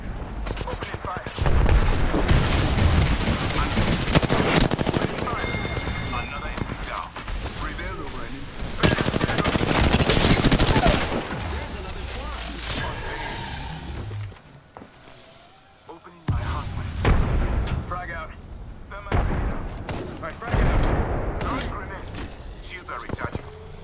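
Rapid bursts of automatic gunfire from an Apex Legends battle royale match, loud and close with sharp volleys and brief pauses, while players talk over the shooting throughout.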